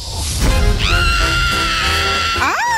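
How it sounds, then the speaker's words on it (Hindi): A woman screams loudly and shrilly at a frog, a long sustained high-pitched cry with rising and falling pitch, close and alone with no talk over it. "तुम ऐसे क्यों चिल्ला रही हो?"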